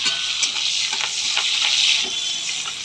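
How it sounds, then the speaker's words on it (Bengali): Eggplant pieces fry in hot oil, giving a bright, dense sizzle throughout with soft stirring knocks scattered across it, close and fairly loud, with no talking. "এই যে বেগুনগুলোকে প্রথমে ভাজতে দিয়ে দিয়েছি"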